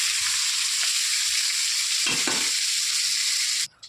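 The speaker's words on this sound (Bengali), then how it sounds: "অল্প একটু নুন, অল্প একটু হলুদ গুঁড়ো দিয়ে ভালো করে ডাঁটাগুলোকে এইভাবে ভেজে নেব" Drumstick stalks fry with salt and turmeric in a pan, a steady loud sizzle with brief stirring scrapes midway, cutting off abruptly near the end.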